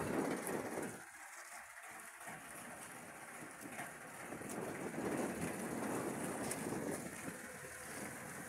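Ocean waves heard from a small fishing boat on rough open water, a constant wash of surf and wind noise buffeting the microphone, fairly faint and continuous, with no speech.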